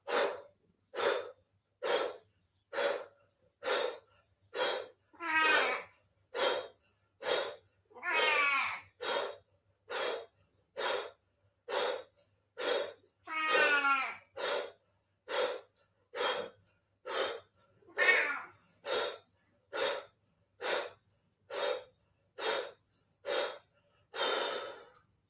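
During a breathing exercise, a person takes sharp pumping breaths in a steady rhythm, roughly one per second for about twenty-five seconds. A few longer, voiced sighing exhales are mixed in, close and fairly quiet.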